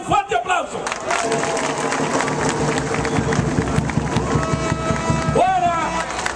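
Loud crowd applause and cheering at a Dominican Liberation Party political rally in Santo Domingo Este, a dense continuous roar of clapping and shouting with voices mixed in throughout.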